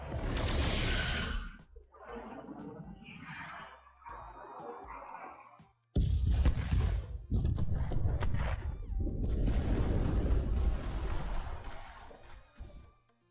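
Starship torpedoes fire in the Star Trek: Resurgence video game as a loud series of booming bursts and whooshes, with a sharp, heavy blast about midway followed by a sustained rumbling barrage.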